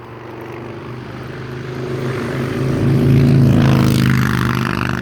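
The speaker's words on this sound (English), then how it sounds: "That was a motorcycle." A loud motorcycle passes near a horse ride, its engine drone swelling as it approaches and peaking before easing slightly, heard alone without talk.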